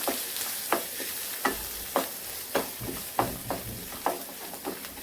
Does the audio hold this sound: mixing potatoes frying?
yes